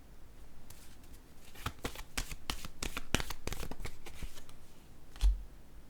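Tarot cards are shuffled in a quick run of crisp riffling flicks that swell and fade, ending with a soft thump as one card is drawn and set down; fairly quiet and close.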